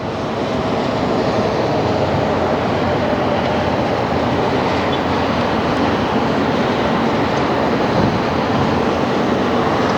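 A jet airliner landing at LAX, heard from a spotting spot at Clutter's Park: a steady, loud broadband roar of engines and rushing air that holds without a break through the whole stretch, with no voices over it.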